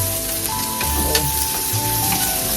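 Onions frying in a pan as the base for macaroni soup, a steady close sizzle and crackle running throughout with a few soft stirring scrapes.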